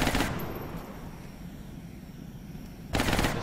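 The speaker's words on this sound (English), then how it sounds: "Okay, there's the shot. There's the covering fire." Gunfire as covering fire in a video game, two loud bursts of shots at the start and end separated by a quieter, fading reverberant tail.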